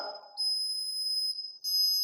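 A homemade laser security alarm with a light sensor sounds its buzzer: a shrill, steady electronic tone that breaks off briefly and then starts again, fairly close and alone.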